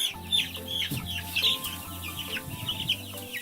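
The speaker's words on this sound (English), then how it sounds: "And these are the chicks that will be used for the pasture poultry class" Chicks nearly three weeks old, raised for a pasture poultry class, cluck and peep repeatedly in a close group, soft overlapping calls with brief higher chirps.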